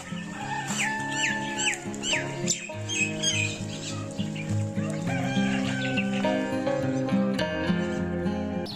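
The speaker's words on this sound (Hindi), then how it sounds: "इन परिंदों की चहचहाहट आप भी पस मंज़र में सुन रहे होंगे।" Loud, busy morning bird calls in a village fill the scene, with squawks and clucking like chickens and a rooster crowing, layered over a steady background.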